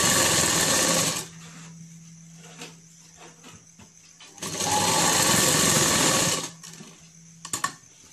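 Sewing machine stitching the folded hem of palazzo pants, running in two loud sustained bursts of fast whirring separated by quieter pauses with small handling clicks, no talk.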